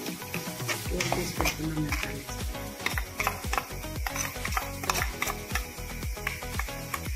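Masala is stirred in a pan with fried fish pieces, a spoon scraping and clinking against the metal in a quick, repeated rhythm up close with a soft sizzle beneath.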